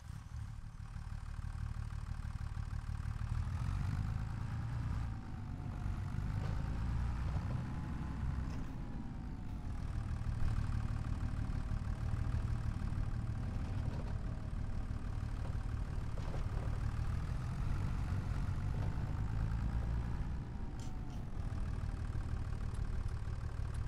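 Massey Ferguson tractor engine in Farming Simulator 25, droning steadily while plowing a field, with gentle rises and falls in pitch over a continuous mid-low rumble.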